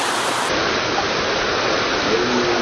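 Creek water flows in a steady, full rush, dense and continuous at close range with no voices over it.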